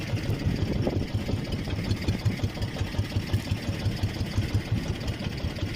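Many boat engines idle steadily nearby, a low chugging drone with a faint mechanical rattle, no talking.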